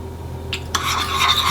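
Brief scraping and stirring of chicken chow mein noodles with oyster sauce, ketchup and soy sauce in a pan over a low steady hum, with a soft clink then a continuous rustling swish.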